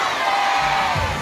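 A large outdoor crowd at a ski champion's homecoming welcome in Črna na Koroškem, Slovenia, shouts back a name in loud unison, a dense sustained roar of many voices filling the whole moment.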